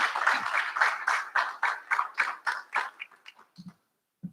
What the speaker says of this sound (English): give yourselves a well-earned, well-deserved round of applause